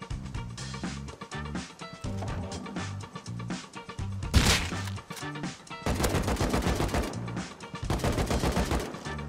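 Rapid video game gunfire during a raid on an explosives bunker, bursts of sharp automatic shots in uneven clusters with a loud crack in the middle and dense sustained firing near the end, loud and close.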